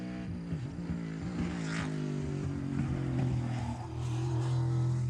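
A race car at NOLA Motorsports Park sweeps through the esses during an SCCA Hoosier Super Tour event, its engine a steady, sustained drone that rises and shifts in pitch as it works through the bends, with no talk over it.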